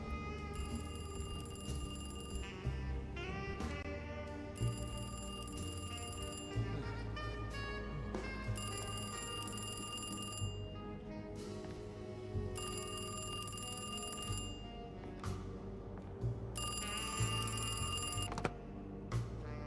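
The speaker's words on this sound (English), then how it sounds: "Is that a phone ringing?" An old-style telephone bell rings in the horror game Alone in the Dark, repeating in regular bursts of roughly two seconds with short gaps, loud over a dense musical and ambient background.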